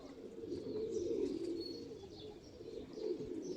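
Flying pigeons murmur in a steady, close cooing chorus, with faint chirps above and no voices.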